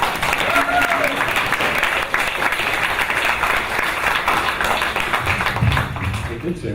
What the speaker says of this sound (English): we owe him a round of applause